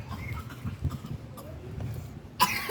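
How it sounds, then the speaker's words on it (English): A child coughs a few times while the family shops in the rain, soft muffled coughs amid low background rumble, followed by a louder burst of noise at the end. "my baby is coughing"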